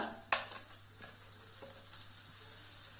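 Cumin seeds sizzling in hot mustard oil in a kadhai, a soft steady crackle and hiss with a brief sharp pop as they hit the oil, then faint stirring scrapes.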